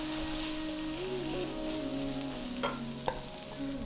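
Onions sizzling on high heat with garlic and ginger for a mackerel fish curry, a steady loud frying hiss with a few stirring clinks near the end.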